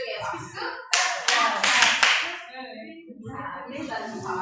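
A group of people at a community conference clapping together, a short burst of sharp, dense claps lasting about a second after murmuring voices, then voices resume.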